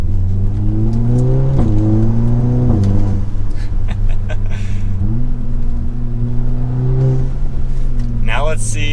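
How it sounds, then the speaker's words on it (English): Car engine revving with a Pedal Commander throttle controller fitted, loud and close, pitch climbing and dropping across several gear changes while someone talks over it. "As soon as I give it gas, we're on the throttle."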